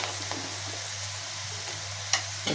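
Prawns frying with onions in a pan give a steady, fairly quiet sizzle with a few soft stirring clicks and one brief sharper scrape near the end.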